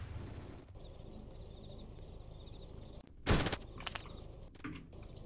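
A video game grenade goes off with a sudden loud, sharp blast that rings out over steady background noise, followed by a couple of smaller bursts.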